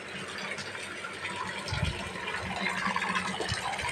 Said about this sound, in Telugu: కొంచెంగా నీళ్ళు కూడా టబ్బులో పెట్టేసుకుంటున్నాను.